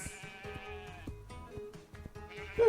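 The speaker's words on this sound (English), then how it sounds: "The sheep." Sheep bleating on a farm, a series of wavering, tonal bleats repeating across the clip at moderate loudness, with a sharper, louder bleat at the very end and no talking.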